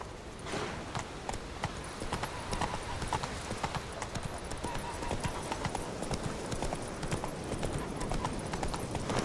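Horse hooves clip-clop at a steady gallop in The Witcher 3, a continuous rhythmic drumming of hoofbeats close by, lasting throughout without pause under faint ambient game sound.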